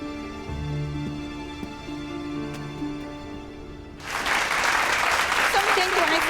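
A crowd breaks into loud, dense clapping at a formal ceremony welcoming a new director in a Hong Kong period drama, starting abruptly after a stretch of voices and tones and continuing steadily to the end.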